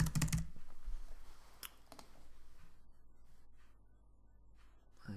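Keystrokes on a computer keyboard as a title is typed, a quick burst of loud clicks at the start, then a few scattered taps over a quiet background.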